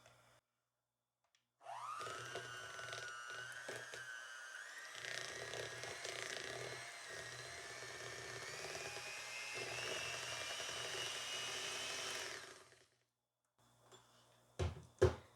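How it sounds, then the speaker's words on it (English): Electric mixer whipping butter for sugar cookie dough, a loud, grating whir that rises in pitch at start-up and runs steadily for about eleven seconds before cutting off, followed by a few clunks. "I will turn the volume down so you don't hear the mixer as loud because it's kind of grating."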